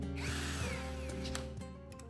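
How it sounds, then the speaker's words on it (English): A power drill bores 5mm holes through a drill guide on an aluminum extrusion cabinet build, whining loudly with pitch sweeps and a few brief pauses as the bit cuts. "this time I'm drilling 5mm holes"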